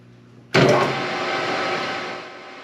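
A lathe takes a light facing cut across a weld-repaired sheave with a tough CNMG insert; the cut starts abruptly as a bright, loud grinding hiss, then settles to a steady scraping tone before easing off.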